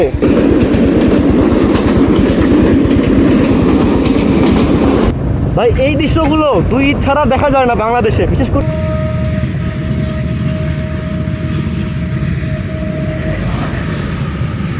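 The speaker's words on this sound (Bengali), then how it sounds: "ট্রেনও চলে আসছে" A Bangladesh Railway train passes close by along a road beside a wetland, its rumble and clatter filling the scene, with a brief horn-like tonal blast near the end while someone talks over the noise.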